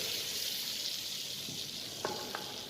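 Refined flour cooking in an equal weight of butter for a roux sizzles softly and steadily, with a couple of faint clinks of a utensil near the end.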